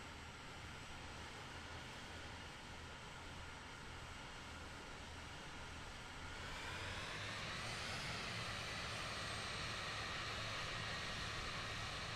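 An airplane engine roars close and steady at near full throttle in Microsoft Flight Simulator 2020, a dense continuous drone that swells slightly louder partway through, with no talk.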